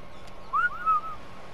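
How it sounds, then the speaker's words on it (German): A short two-part whistle command from a player character in ARK: Survival Evolved, a bright rising note followed by a level one, fairly clear over quiet game ambience. "was mache ich jetzt? Pfeifen."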